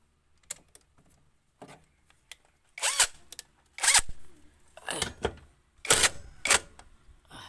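An impact wrench works on the wiper linkage of a Nissan B14, firing several short, loud, rattling bursts close by with brief pauses between them.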